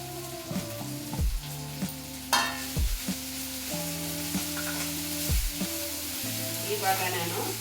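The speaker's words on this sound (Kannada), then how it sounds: "ನೋಡಿ ಇವಾಗ ಟೊಮೆಟೊ ಎಲ್ಲ ಚೆನ್ನಾಗಿ ಫ್ರೈ ಆಗಿದೆ" Tomatoes frying with coriander leaves in a pan sizzle steadily beneath louder melodic background music, with no speech.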